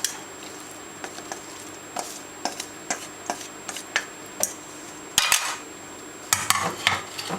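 Chicken, capsicum, mushrooms and vegetables being mixed in a pan, a regular series of close spoon-on-metal taps and scrapes, about one per half second, ending in a burst of busier clatter.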